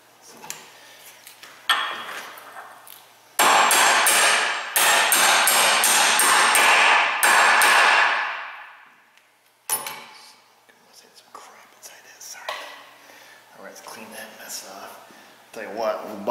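A big hammer strikes a vehicle U-joint in fast bursts of loud, ringing metallic blows, several strikes per second in two long runs, with softer clinks, handling noises and quiet talk around them.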